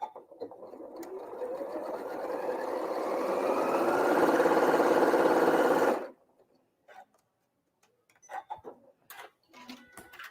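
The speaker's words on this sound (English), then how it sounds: "All right, I'm going to sew that." A sewing machine stitches a quilt block for a Diamond Star pattern, running steadily for about six seconds and building in intensity before stopping; small handling clicks and rustles follow in the quiet afterward.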